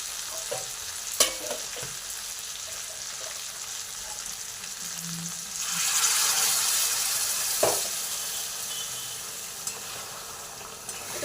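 Water poured into chicken kosha frying in a pan gives a broad, steady sizzle that swells around the middle, with a few sharp utensil clinks and scrapes scattered through.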